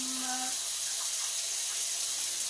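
Tap water runs into a kitchen sink while measuring cups are rinsed during snickerdoodle baking, a steady, even hiss with no pauses, heard alone after a brief tonal note at the start.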